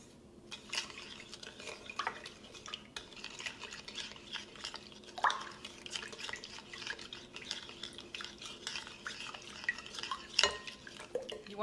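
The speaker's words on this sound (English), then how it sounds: "You wanna make sure that you mix your yeast, your sugar, and your water blend really well." Yeast, sugar and warm water being stirred together in a bowl for beignet dough, with soft scraping and clinking of a utensil against the bowl at an irregular pace, close and fairly quiet.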